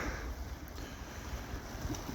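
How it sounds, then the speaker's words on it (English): Waves roll onto a beach at the Yealm estuary on a quiet October morning, with swell breaking on a sandbar. It is a steady broad wash of surf mixed with wind noise on the microphone, and nobody speaks. "Look at the waves coming in."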